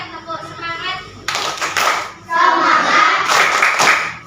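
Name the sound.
children doing a spirit clap in class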